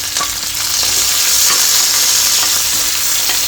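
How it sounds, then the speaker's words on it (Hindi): Onions with cumin and garlic sizzle and fry loudly in hot ghee in a kadai while being stirred, a steady close hiss with small scraping clicks and no talking. "तो प्याज डालेंगे इसके अंदर"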